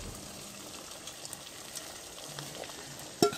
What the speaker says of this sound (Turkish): Oo, fokur fokur Şöyle kaynıyor.